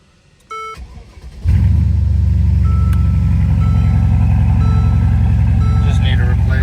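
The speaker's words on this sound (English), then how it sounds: "Let me go ahead and crank this up now." A 2016 Mercedes-Benz SL550 Mille Miglia 417 Edition cranks briefly after a few chimes, then its engine catches and settles into a loud, steady idle rumble close by.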